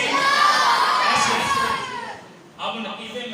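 A crowd at an urs religious gathering shouts a devotional slogan in unison, a loud, sustained mass of voices lasting about two seconds, followed by a brief dip and a second, shorter burst of shouting.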